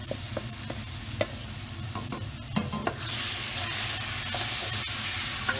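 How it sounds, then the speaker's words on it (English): Marinated lamb with onions frying in a pan for a traditional lamb biryani: a few sharp clatters of stirring, then from about three seconds a loud, steady hiss of sizzling fat that fills the rest of the clip, close and without voices. "add in all our lamb that we marinated the night before"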